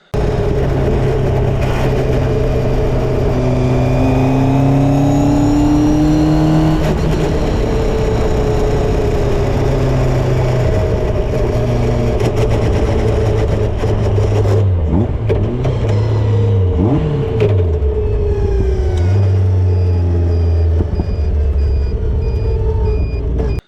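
A loud, rough Caterham 7 450HPR engine drones continuously as revs rise and fall with gear changes, accompanied by whining, rattly mechanical noise from the SADEV gearbox.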